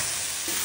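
Spaghetti sauce stirred in a pan, a dense continuous sizzling hiss, close and steady for a brief moment.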